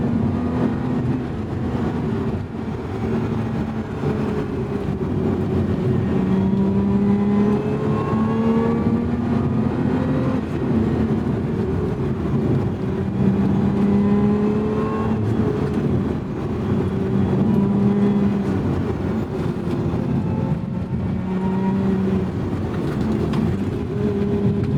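A 2024 Lotus Emira Sport Chassis V6 with a manual gearbox driven hard on canyon roads, its engine note climbing and falling repeatedly through gears, a loud, continuous rasping drone heard from inside the car with no talking.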